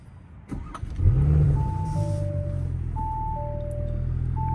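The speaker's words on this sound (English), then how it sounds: "we'll go ahead and start the car up." An Audi B9 S5 engine cranks and catches, then settles into a steady low idle, with a couple of faint electronic chimes sounding over it.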